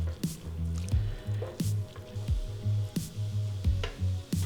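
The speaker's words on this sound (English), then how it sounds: "Pan got a little dry, so I'm adding a little bit more pasta water." Pasta water being added to a pan of cacio e pepe gives soft wet squishes and drips, with several sharp splashy taps and a low sizzle in the background, close and fairly quiet, with no talking.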